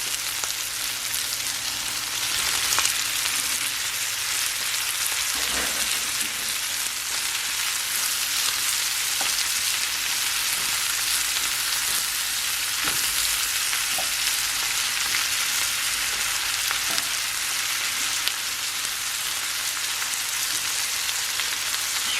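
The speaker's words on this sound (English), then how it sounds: "I'm going to add in the shrimp so that they can get cooking" Shrimp frying in a pan with smoked sausage and butter, a steady wet sizzle that holds throughout with faint scattered pops and stirring clicks, close by and with no talking.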